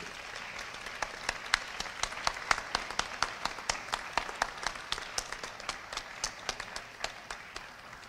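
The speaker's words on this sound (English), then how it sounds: "Let's give all of our honorees a round of applause," A seated audience at the UDC Founders' Day 2022 ceremony gives its honorees a steady round of applause, moderately distant and even, with a few louder individual claps standing out throughout.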